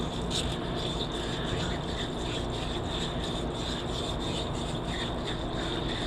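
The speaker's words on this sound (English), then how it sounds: "So I'll just give a little run around on the sleeve here." Fine sandpaper, around 320 grit, rubbed around the sleeve of an automatic transmission valve body, giving a steady, continuous gritty scraping close up with no talking.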